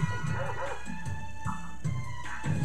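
A cartoonish dog in Mario Party 7 gives a series of short yipping barks and whimpers over steady tonal game music, several quick bursts spread evenly across the clip.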